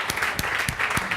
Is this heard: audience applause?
yes